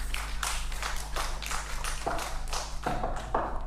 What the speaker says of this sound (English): Let's clap for them as they sit down.